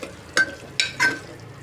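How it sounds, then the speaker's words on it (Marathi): Drumstick vegetable pieces being stirred and sautéed in masala inside a pressure cooker, with three short scraping, sizzling strokes of the spoon over a faint low background. "हे 2 ते 3 मिनिटे परतून घ्यायचे."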